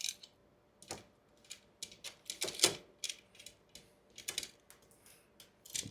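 Links are cut out of a metal chain for a Razor SX 500 or MX 650 electric dirt bike, heard as quiet, close, irregular metallic clicks and snaps with no talk.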